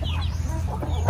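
Several chickens cluck steadily at a backyard poultry farm in Glan, close and fairly loud, with a low constant hum underneath and no talking.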